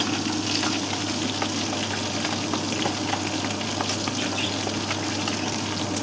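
Homemade meatballs cook gently in a pan with a splash of water, giving a constant close sizzle and bubbling crackle that holds steady throughout, with no voices over it.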